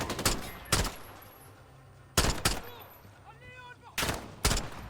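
Sharp bursts of gunfire in the Modern Warfare campaign, arriving in spaced pairs of loud cracks with quieter game ambience and electronic chirps in between.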